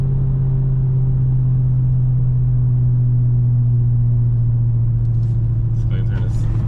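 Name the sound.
Dodge Hellcat supercharger whine and engine rumble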